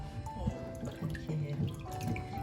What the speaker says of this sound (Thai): นี่เราล้างด้วยน้ำส้มนะ